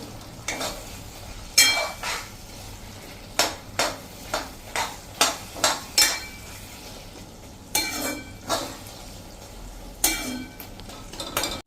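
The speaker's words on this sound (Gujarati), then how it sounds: "એને આપણે આવી રીતે હલાવી અને ઢાંકીને 1 જ મિનિટ થવા દઈ" A spoon stirs fried eggplant and potato chips into a simmering curry in a pan, giving a dozen or so distinct scraping, clinking strokes at a steady rhythm over a soft background sizzle.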